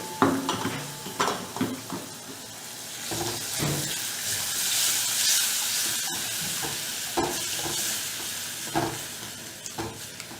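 Horse gram flour batter goes into a sizzling pan and is stirred, giving close frying hiss with repeated scraping strokes and soft clinks of a utensil against the pan.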